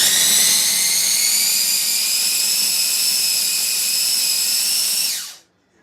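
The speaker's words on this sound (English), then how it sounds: "This is a Cuisinart Mini Prep Plus." Cuisinart Mini Prep Plus food processor whirring at a steady high-pitched whine with a strong motor hum, loud and close, running continuously for about five seconds before spinning down and stopping.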